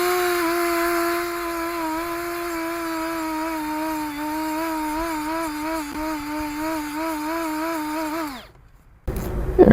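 A grinder whines close and steady as it smooths the frame of a 1973 Harley Sportster, its tone wavering slightly under load before spinning down and stopping near the end.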